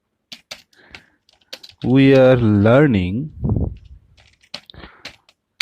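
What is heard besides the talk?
typing on a computer keyboard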